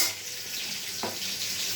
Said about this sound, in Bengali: তেজপাতা দিয়ে দিচ্ছি। দিয়ে এগুলো ভালো করে নেড়ে